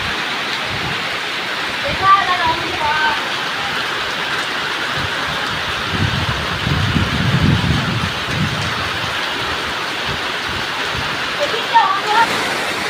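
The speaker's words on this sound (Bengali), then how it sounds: "যে প্রচণ্ড বৃষ্টি পড়তেছে, দেখো বৃষ্টি, প্রচণ্ড বৃষ্টি।" Heavy rain pouring down outside a shelter during a storm, a dense, steady hiss of rainfall with a deeper rumble in the middle, loud and continuous throughout.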